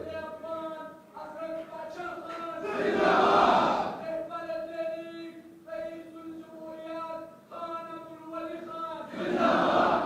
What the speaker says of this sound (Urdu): میرے بھائی جو آپ نعرے لگا رہے ہو